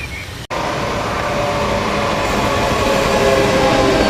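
A TER regional train runs along the railway beside the coastal path from Cap Martin toward Monaco, a sudden loud, close rush of wheels and wagons that starts abruptly and keeps roaring steadily to the end.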